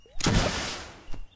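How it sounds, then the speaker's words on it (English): An explosion in the video game Starbound: a loud, broadband boom with a rumbling low-end tail lasting about a second, followed by a smaller sharp burst near the end. "I hope you like explosion for breakfast"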